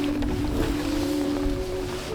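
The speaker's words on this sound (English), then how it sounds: "already you can feel that it is quite windy" Steady wind blowing beside a lake in Norway, a continuous broadband rush with a low rumble and a faint tonal hum running through it, loud and unbroken with no speech.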